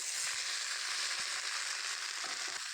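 Cut, washed ridge gourd (chichinga) drops into a hot pan and fries with a steady, loud, close hiss of sizzling oil, broken by a few soft clinks of stirring.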